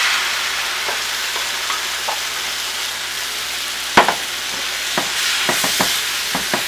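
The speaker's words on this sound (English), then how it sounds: "If we haven't already, deglazing the bottom of the pan with that." Crushed canned tomatoes stirred into a hot pan to deglaze it for braised beef, a steady soft sizzle with a few sharp scrapes and knocks of the utensil against the pan near the end.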